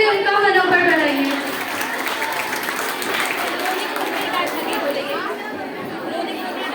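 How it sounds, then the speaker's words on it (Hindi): At a school farewell event, the audience gives a sustained wash of clapping mixed with crowd chatter. A brief voice is heard at the start, and the applause holds at an even level to the end. "जोरदार तालियों से उनका मनोबल बढ़ाइए।"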